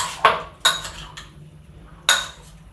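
Chopped tomatoes being mixed in a bowl with a utensil, giving a few sharp clinks and scrapes against the dish in quick, separate bursts, close and fairly loud with no talking.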